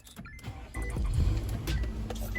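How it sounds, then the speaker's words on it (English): A car's engine starts with a whirring crank that catches into a steady low rumble, heard from inside the cabin. No separate door slam stands out. "what I'm about to do right now is turn my car on and close my door"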